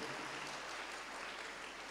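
A church congregation at a Word of God gathering in Muthangi, India claps together, a dense, even wash of many hands throughout, heard from a distance with nothing else over it.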